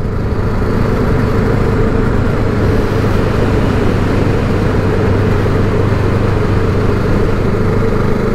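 QJ Motor SRK 700 motorcycle cruising steadily in sixth gear at about 2500 rpm, a continuous low engine drone with road and wind noise, even and loud throughout.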